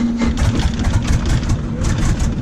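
Harvard T6 trainer aircraft's radial engine running steadily after start, a loud, rough, continuous rumble with a pulsing low throb and broadband roar, close by with no talk.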